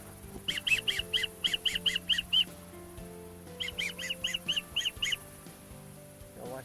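Teal ducks call from near a hunting blind, two bursts of rapid quacking honks in quick rhythmic series, fairly close, over a low background hum.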